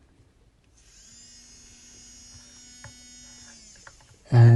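An electric nail drill switches on and runs with a steady high-pitched whine for about three seconds, close and alone. It ends in a sudden loud knock or handling thud.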